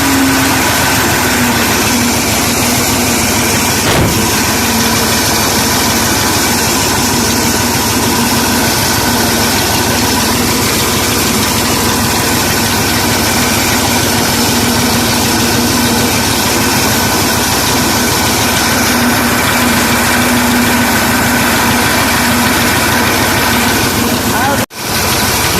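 A 1986 Massey 240 tractor engine runs at idle with a steady, loud rumble throughout, constant vibration and hum, close by, and a brief sharp knock near the end.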